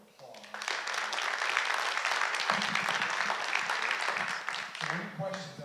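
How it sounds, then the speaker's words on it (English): Audience applause at a community talk on economic development and regional housing in Union County and Marysville, a steady sustained clapping that swells and holds for several seconds before tapering off. "let's give them one more round of applause"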